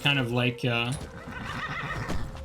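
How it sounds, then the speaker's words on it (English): A summoned horse whinnies loudly with a clear, harmonic neigh in a Skyrim-style fantasy video game, two close bursts up front, then fading under someone speaking. "So as you're seeing your horse like get summoned,"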